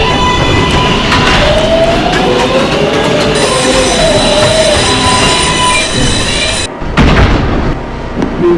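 An R142A 6 subway train runs express through the Bronx toward Pelham Bay Park, a loud roar with squealing wheels and a long high whine, then a sharp jolt and rumble as it carries on.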